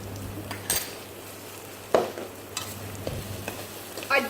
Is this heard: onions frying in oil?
yes